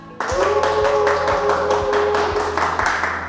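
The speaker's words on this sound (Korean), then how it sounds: "3월 SOS 미팅을 여러분의 열화와 같은 박수로 시작하겠습니다" An audience claps steadily to open the March SOS meeting of ADAnet Family, a dense run of applause over a continuous background of music with sustained tones and a regular low beat.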